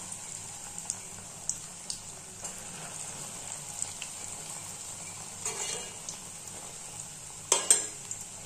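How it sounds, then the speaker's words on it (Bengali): Bread pieces fry in hot oil and ghee with a steady, close sizzle, broken by a few light stirring clinks and a louder crackling burst near the end. "তেলটা গরম হয়ে গেছে, এবার আমরা যে রুটিগুলো পিস করে রেখেছিলাম ওই পিসগুলো এখানে দিয়ে দিচ্ছি।"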